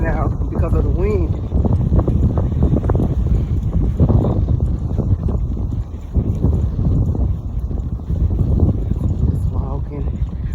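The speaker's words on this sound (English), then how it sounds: "I don't know how this video gonna turn out because of the wind." Strong wind buffets a microphone outdoors during a walk on a windy day, a loud, continuous low rumble and roar that swamps everything for the whole stretch, with a few faint voice-like traces under it.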